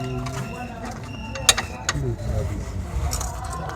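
Newly fitted shock absorbers being tightened with a hand tool, giving soft mechanical clicks and a few sharp metallic ticks over a low background rumble.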